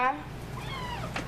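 A cat meows once near the start, a short bright cry, followed by a person speaking over faint background noise.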